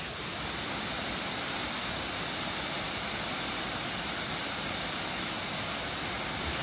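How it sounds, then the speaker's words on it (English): A waterfall pours into a flowing river in a steady, dense rush of water that stays constant and close throughout, with no voices. "the sound of water falling, the river flowing, it's always very calming to the mind"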